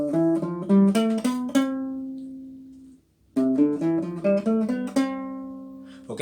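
An acoustic guitar plays the do-re-mi major scale in a beginner's lesson: two clear runs of single plucked notes climbing step by step, each ending on a ringing sustained note, with a short silent pause between them.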